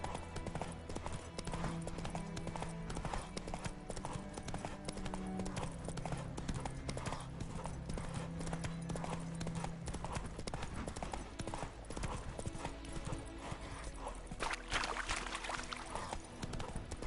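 Galloping horse hooves in The Witcher 3: Wild Hunt, a steady, loud clip-clop drumming that runs throughout under game music and ambience, with no speech.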